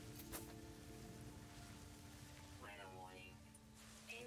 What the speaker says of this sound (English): Toxic rainstorm, just what we always wanted.